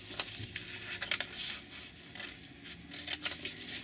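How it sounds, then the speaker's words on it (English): Scissors snip a printed paper number out of a sheet for collage crafting, a close, quiet run of crisp irregular cuts and paper rustles with brief pauses, no talk. "let's just cut a number off"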